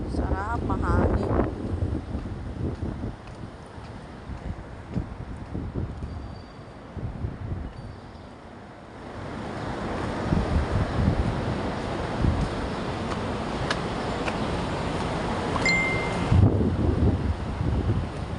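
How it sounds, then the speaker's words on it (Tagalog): Gusty outdoor wind near Robinsons Galleria buffets the microphone in a steady roar that dips and swells. "Sarap, mahangin"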